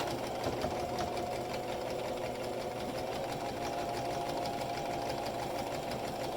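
A sewing machine stitches steadily along fabric under the presser foot while a bag holder's main part is sewn, its motor whirring in a continuous, even run at moderate volume with no pauses and no talk.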